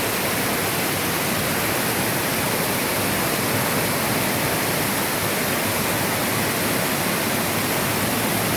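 Heavy rain pours down amid rushing flood water, a dense, unbroken roar that stays constant and loud throughout, with no voices.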